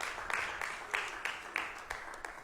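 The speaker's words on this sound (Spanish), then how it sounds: "Vamos a darle un aplauso a Dios." A church congregation claps in praise during a worship service, a moderate scattering of hand claps with fairly even beats, heard at some distance and fading slightly across a short stretch.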